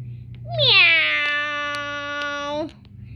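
A domestic cat gives one long, clear meow lasting about two seconds, close and fairly loud, with a low background hum and no talking over it.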